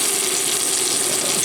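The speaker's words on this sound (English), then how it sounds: "We'll go ahead and cook that bacon all the way through, and hopefully we don't overcook our asparagus" Bacon-wrapped asparagus frying in a pan gives off a loud, steady sizzle with a constant hiss, close by and without pauses.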